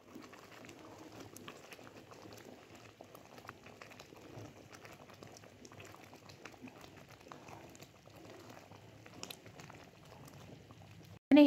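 Carrot kheer with rice and khoya simmers in a pan, giving a soft continuous bubbling and faint popping close by. A brief louder knock comes at the very end.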